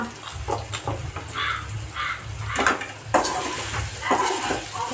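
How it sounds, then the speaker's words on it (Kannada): Spices sizzling in a frying pan with turmeric, salt, chili powder, garam masala and soy sauce, stirred with tongs, with steady crackle under repeated scraping and clinks of the utensil against the pan, close and fairly loud, no talking. "ಈ ಥರ ಫ್ರೈ ಮಾಡೋಣ ಸ್ವಲ್ಪ"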